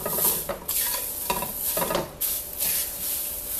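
Dried seaweed chips with a pinch of salt toast in a hot pan, a soft sizzle broken by several scraping stirs in quick bursts, close by.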